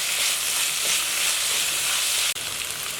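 Onions fry in a pan over a medium gas flame, making a steady, dense sizzling hiss. The sound is close and continuous, with one brief break near the end and no talking.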